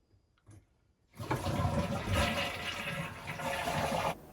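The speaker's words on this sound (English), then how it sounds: "Then you want to flush the toilet." A household toilet is flushed after its supply valve has been shut off. A faint click is followed by a loud, close rushing flush that lasts about three seconds and then cuts off.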